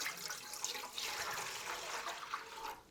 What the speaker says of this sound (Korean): 이렇게 먼저 쌀뜨물을 부어주세요